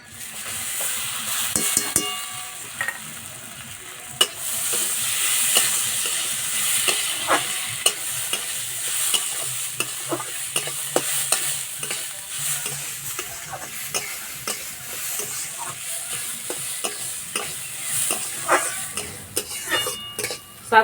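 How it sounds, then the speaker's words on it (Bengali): Drained dalia (broken wheat) stirred in ghee with bay leaves, dried red chillies and whole garam masala: continuous sizzle and frying hiss with repeated scraping and clinks of a spoon against the pan, close and fairly loud. "সব কিছু একসঙ্গে ভালো করে নেড়ে নিয়েছি।"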